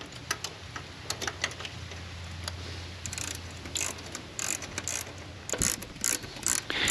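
A ratchet wrench tightening a part on a Chevy Monte Carlo during hard-start repair: quick bursts of close, sharp clicking from the pawl in short runs, separated by pauses, over a quiet low background hum, without any speech.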